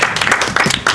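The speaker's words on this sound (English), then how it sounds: "can we just give a round of applause?" An audience at a car-racing pit event claps in a brief, dense burst, loud and close, with no break in the sound.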